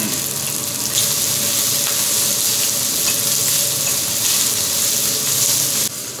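Seafood such as scallops and tiger prawns sizzles on a teppanyaki iron griddle in a restaurant, a steady, loud, close hiss of frying with no talk.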